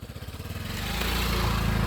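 A motorcycle passing close by on a residential street, a pulsing engine note that quickly rises into a loud, steady roar with no voices.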